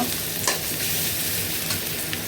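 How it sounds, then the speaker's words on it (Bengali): Onion fries in a pan with a continuous, fairly loud sizzling hiss, plus a couple of faint stirring clicks and no voices. "আর হচ্ছে এখানে যে পেঁয়াজটা ভাজতেছি"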